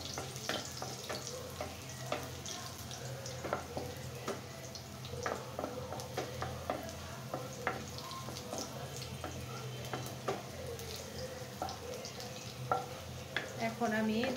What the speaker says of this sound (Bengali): খুব সুন্দর করে রসুনটাকে আমি ভেজে নিব।